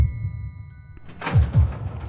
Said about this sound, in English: The elevator doors opened and I practically sprinted out.